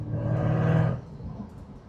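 A supercharged Corvette C7 engine revs with a deep, rising roar for about a second, then drops back to a low idling rumble.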